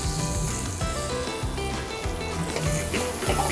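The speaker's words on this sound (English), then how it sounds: "Gonna give it a nice little saute so we can get some of the garlic flavors into your tomato" Diced Roma tomato and garlic sauté in a pan, giving a loud, steady close sizzle with faint crackles, no voices.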